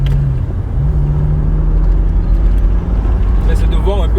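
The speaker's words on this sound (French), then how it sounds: "Il y a beaucoup de circulation." Steady road traffic rumble heard from inside or beside a BMW 330Ci convertible at rush hour, a continuous loud low drone with passing vehicles, and a brief whine near the end.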